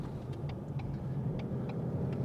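An 800 hp Whipple-supercharged 2018 Ford Mustang rolls on the throttle, a steady low engine rumble with faint ticking, heard from inside the car without speech.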